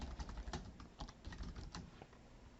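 Quick, steady keystrokes on a computer keyboard as a question is typed into Google Forms, a continuous run of soft clicks heard close and alone.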